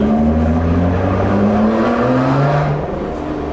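Lotus Evora 400 engine revving loudly and close, a coarse, mechanical drone whose pitch rises and dips steadily across the clip without any talking.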